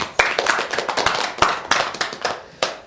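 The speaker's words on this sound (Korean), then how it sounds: "자, 박수 한번." Scattered handclaps from a small audience at a Buddhist teaching session ring out in uneven bursts, close and fairly crisp, with no talking over them.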